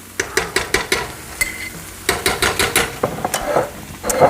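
Sofrito sizzles in a pan while a spoon stirs and taps it in a quick, regular rhythm of sharp knocks over a low frying hiss, close and fairly loud, with no talking.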